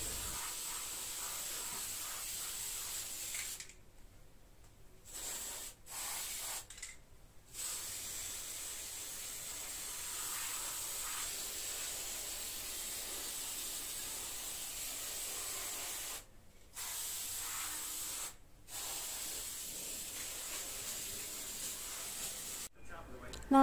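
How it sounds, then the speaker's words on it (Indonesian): White spray paint hissing from an aerosol can onto faded parts of a DIY bag hanger, a long steady hiss broken by several short pauses, fairly faint and close. "untuk bagian-bagian yang warnanya agak pudar, aku semprot pakai pilox warna putih"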